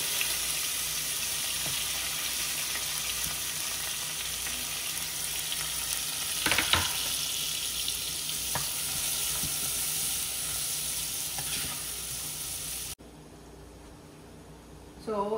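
Onions, capsicum and tomato sauté in a pan, a loud continuous close sizzle with a few scraping stirs, cutting abruptly to a quieter moment near the end.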